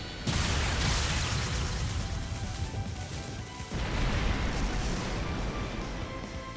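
Buster Lance optical weapon attack in the video game Trails through Daybreak, a sustained roaring energy blast with a sharp onset, a dense crackling wash that surges again midway, loud and close with no talk.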